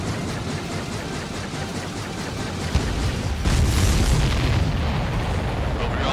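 Heavy rumbling explosions in the Ace Combat 7 combat flight game, a steady barrage of booms with a sharp burst near three seconds and a louder, denser roar after it, with no talk.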